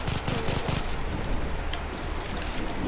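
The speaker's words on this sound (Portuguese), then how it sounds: "Dar uns tirinhos nela, né? Olha que bosta de arma." Rapid gunfire from a weapon in Far Cry 3, a dense burst of close, loud shots at the start that trails into continuous rattling fire and game ambience, with no talking.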